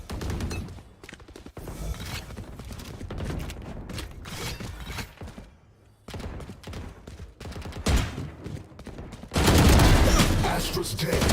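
Gunfire in the video game Valorant during a ranked match: dense bursts of rapid shots and scattered single cracks, loud and close, with a short quiet gap and a heavier burst near the end, under occasional talk.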